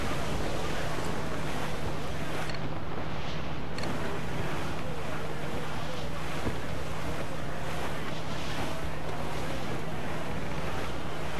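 Strong wind and crashing waves of a sea squall roar around a sailing ship in Assassin's Creed IV: Black Flag, a loud, constant rushing wash with gusting surges and no voices.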